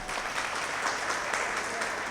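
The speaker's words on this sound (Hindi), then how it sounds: "अनिल जी प्रजापति, उनके लिए जोरदार तालियां।" A crowd claps steadily in dense, even applause at a World Photography Day event, moderately loud and sustained for a couple of seconds.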